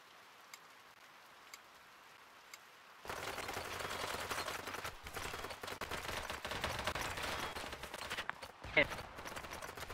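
Gunfire in the video game BattleBit Remastered: after a quiet opening, a dense, continuous crackle of rapid shots bursts in and runs steadily to the end, with one louder pop near the close.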